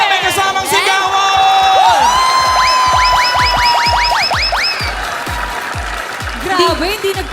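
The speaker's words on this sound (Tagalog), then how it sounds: "Palakpakan na may kasamang sigawan!" A studio audience at the Eat Bulaga variety show applauds and cheers, mixed with rising whoops and whistle-like tones and a host talking over the noise.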